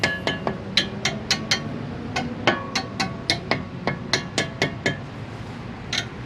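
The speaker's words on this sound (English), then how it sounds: "Once you do that, you can just kind of tap it in." Sharp metallic taps ring out steadily as a front brake part is driven into place on a Volkswagen during a rotor and pad job, roughly twenty close, bright strikes in a quick, even rhythm with no talking.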